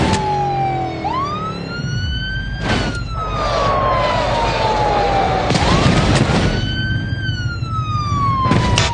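A Russian police car siren in the BeamNG.drive driving game wails in loud rising and falling sweeps, close and continuous, with brief bursts of crash or engine noise between the tones.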